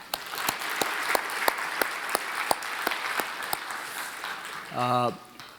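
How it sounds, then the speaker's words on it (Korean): Clapping from a church youth winter retreat audience, a run of crisp, evenly spaced claps over a softer crowd patter, followed near the end by a brief voice speaking. "자, 박수 한번 쳐볼까요?"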